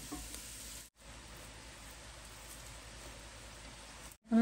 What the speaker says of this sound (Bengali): ভেজিটেবলটা সিদ্ধ হয়ে গেছে। এখন আমি রাইসটা অ্যাড করব।